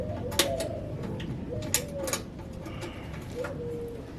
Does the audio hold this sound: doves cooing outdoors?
yes